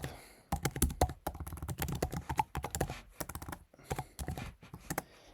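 Someone types on a computer keyboard while coding, producing quick, close clusters of light key clicks separated by short pauses.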